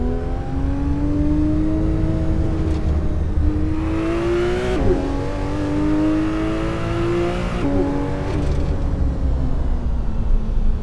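A car engine driven hard in Assetto Corsa on the Col de Thannenkirch road: a loud, close engine note climbs steadily in pitch, breaks at two gear shifts and climbs again, with no talking.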